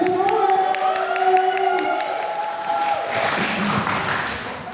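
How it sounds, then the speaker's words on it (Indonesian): An audience at an Indonesian training session applauds for a man named Andri, a steady burst of clapping and some cheering that lasts the whole stretch, with a speaking voice mixed in at the start. "tepuk tangan untuk Mas Andri"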